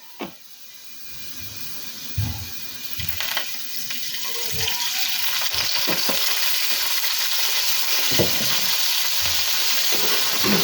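Crab turned orange cooks in a pan after a little oil is added. A soft sizzle grows steadily louder and more constant, with a few clatters of handling early on.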